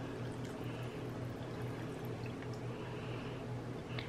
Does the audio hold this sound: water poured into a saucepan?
yes